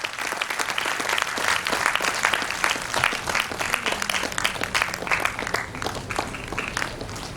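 Steady applause from a large crowd at an Independence Day celebration, dense continuous clapping that holds at an even loudness throughout.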